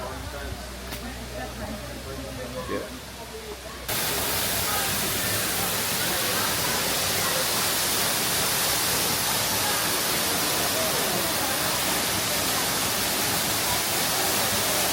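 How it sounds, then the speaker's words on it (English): A waterfall pours in a dense, steady roar, heard faintly under a few spoken words at first, then bursting in loud and close for the rest. "So we're here at the waterfalls"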